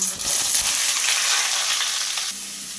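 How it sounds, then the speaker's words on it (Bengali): Potato, jackfruit and soybean pieces fry in hot white oil in a pan, giving a loud, steady broadband sizzle that fills the whole stretch, easing slightly near the end with no voices. "এই তেলের মধ্যে আমি আলু এঁচড় ও সোয়াবিনটা দিয়ে ভেজে নেবো"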